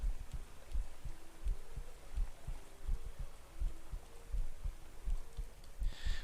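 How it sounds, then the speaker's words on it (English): A steady heartbeat pulse effect plays in the video game Caverns of Xaskazien 2, with low, thudding double beats repeating at an even pace throughout and no speech. "You can still hear the heartbeat."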